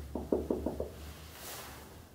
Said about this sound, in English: But I knocked.